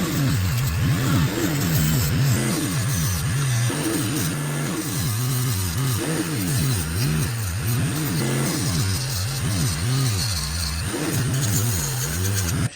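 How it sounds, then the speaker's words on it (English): A 3-inch grinder fitted with a fabric wheel polishing the brass bolsters of a vintage 1970s Boker USA Congress pocket knife, a steady close whine that rises and falls repeatedly as the wheel bears on and eases off the metal. "I'm going to be using the 3-inch grinder with the fabric wheel just to get the surface rust off and shine up that brass right there"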